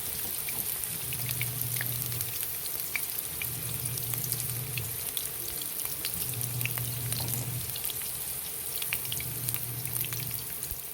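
Onions frying in a hot wok-style pan for squid adobo, a steady broadband sizzle running evenly throughout with a low periodic hum underneath and no talking.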